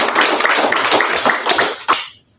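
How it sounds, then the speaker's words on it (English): Small school board meeting audience giving a round of applause for student representatives, a brief close burst of hand clapping that tapers off quickly. "I think we should give them a round of applause"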